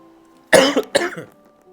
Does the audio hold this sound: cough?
yes